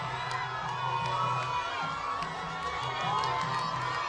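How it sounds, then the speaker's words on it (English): A huge crowd in Brikama cheers to welcome the president, a dense, continuous roar of many shouting and whooping voices, with children's high-pitched cries and occasional sharp accents mixed in. "The crowd is quite huge here"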